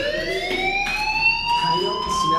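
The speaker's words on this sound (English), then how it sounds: "Hey, do you hear that fire alarm?" A school fire alarm sounds in the video game Life is Strange, a loud, continuous electronic wail with a slowly rising pitch that holds steady throughout.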